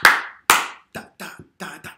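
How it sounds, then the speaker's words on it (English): Rhythmic hand clapping in a clap-back game: two loud spaced claps, then a quicker pattern of softer claps and double claps, crisp and close with no talk. "Clap This One Back"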